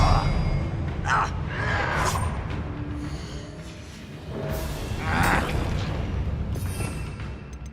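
Bombarda explosion spell from Hogwarts Legacy, heard as several booming blasts with sparkling bursts through a dense battle mix, near and loud, with spoken spell calls around them.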